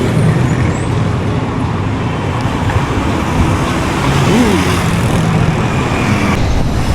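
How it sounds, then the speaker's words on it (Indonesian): Street traffic with buses in Caracas, Venezuela: a continuous close roar of engines and tyres with passing vehicles and a brief brake hiss, loud and without clear talk. "Jadi di sini banyak public transport juga kayak bus-bus gini."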